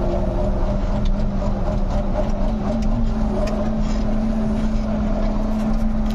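Tractor engine droning steadily while it drives a sprayer across a triticale field during foliar feeding with urea, loud and close with wind noise, no voices.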